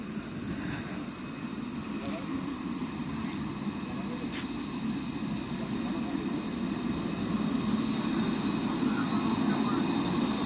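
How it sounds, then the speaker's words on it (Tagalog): Steady rumbling of a train in Santa Cruz de Tenerife, Spain running along the tracks, a continuous low roar with faint high tones above, holding level throughout the clip. "Yan po ang tren ng Santa Cruz"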